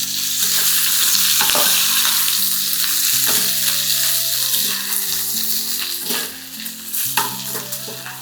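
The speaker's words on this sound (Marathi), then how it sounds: "ते आपल्याला थोडंसं तेल टाकून परतून घ्यायचे." Three medium-size finely chopped onions sautéing in a little oil give a continuous loud sizzle and frying hiss, punctuated by stirring scrapes and clinks of a utensil against the pan, with no voices.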